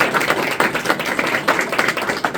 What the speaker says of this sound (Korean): 우리 환영과 감사의 박수.